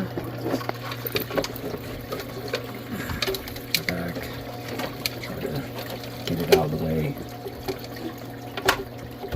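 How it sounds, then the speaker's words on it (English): Water splashing and trickling into water during maintenance of a 90-gallon coral reef aquarium, a continuous low gurgling hum with scattered clicks and bumps, with someone talking briefly over it. "You're not going to have that water falling straight into water making that noise."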